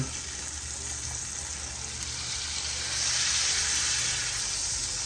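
Butter under a flipped tri-tip steak sizzles in a pan as a steady, close, loud hiss that swells slightly toward the end, with no voices.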